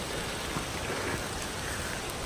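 Steady autumn rain falls outdoors on the way to a waterfall, a dense even hiss of drops with no break and no voices, moderately quiet throughout.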